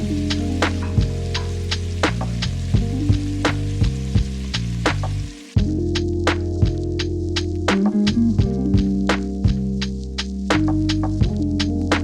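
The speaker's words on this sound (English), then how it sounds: "You're going to hear the sizzle, one of my favorite sounds." Beef short ribs searing in hot oil in a pot, a continuous close sizzle with crackling pops, under a steady low musical hum and no talking.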